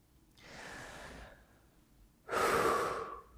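A person breathes audibly to show breathlessness, giving two short, close, airy breaths, the second one sharper and louder, with a pause between them and no speech.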